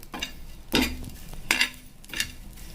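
Roasted dried prawns (sukat) are scraped out of a pan with three or four distinct metallic scrapes and clanks over a faint background sizzle, with no talking.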